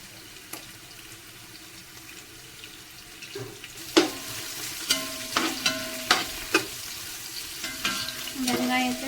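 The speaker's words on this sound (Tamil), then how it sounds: "வெங்காயத்தை நல்லா வதக்கி எடுக்க போகிறோம்." Onions frying in a pan for Kerala-style chicken biryani, with a constant low sizzle broken by a run of sharp spoon scrapes and clinks as they are stirred, close and fairly quiet.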